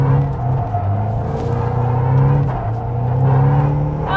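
Car engine held at high revs in second gear during a donut, a loud sustained drone with the pitch rising and dipping as the throttle shifts, close and continuous.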